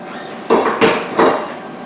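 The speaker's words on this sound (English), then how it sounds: "So here's my hammer." Rubber hammer tapping a vinyl flooring plank being installed on a wall: three firm, close knocks spaced about a third of a second apart, each ringing briefly over steady room noise, with no talking.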